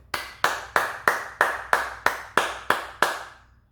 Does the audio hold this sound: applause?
yes